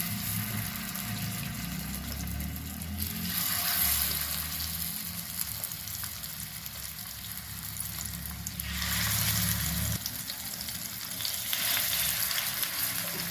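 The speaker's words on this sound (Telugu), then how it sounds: "ఆయిల్ వేడెక్కిందండి ఈ చేపలను వేసేద్దాం" Fish for a spicy street-style fry sizzle in plenty of hot oil, a steady crackling hiss with louder surges partway through and some low background rumble, with no one talking.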